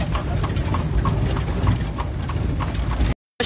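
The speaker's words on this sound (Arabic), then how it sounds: "سبحان الله العظيم جيت ترودان نركب الكوتشي" Horse hooves clip-clop steadily on a street in Taroudant as a horse-drawn carriage rolls along, with a dense rumble of wheels and traffic underneath before an abrupt cut.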